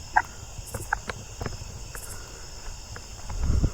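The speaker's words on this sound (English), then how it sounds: "the pine tree crickets definitely sound like songs of insects tonight" Steady high-pitched chirring of pine tree crickets in the night, continuous and moderately distant, with a few faint clicks and a low rumble toward the end.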